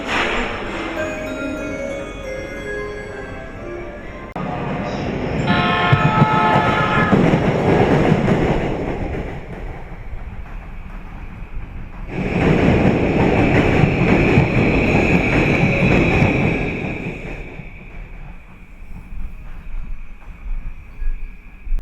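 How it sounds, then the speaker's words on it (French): A train rumbles and clatters into Shibuya station in Tokyo in loud swells, with a high steady whine and quieter gaps between passes. "到着の電車は品川、東京方面行きです"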